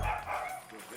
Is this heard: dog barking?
yes